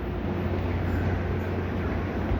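Tri-Rail train at the MIA station, heard as a steady low rumble and rolling hum from the tracks, moderately loud and continuous throughout.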